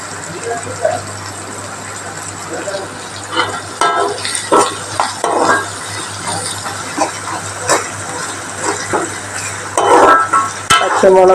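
Tomato curry sautéing in a pan with green chillies and garlic, giving a steady sizzle with stirring scrapes and clinks throughout, loud and close.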